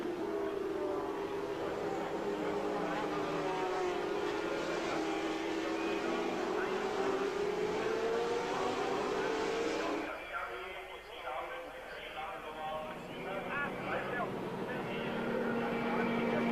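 Formula One race cars on the warm-up lap of the 1981 German Grand Prix, engines screaming and shifting pitch as they pass close by, continuous and loud, with a commentator talking over the roar throughout.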